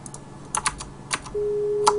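A few soft keyboard clicks are followed by a steady electronic telephone busy tone that begins partway through and holds on a single pitch to the end, moderately loud and close.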